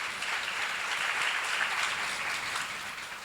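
Steady applause from a church congregation at a Korean sermon seminar, dense and sustained clapping at moderate level throughout without a break.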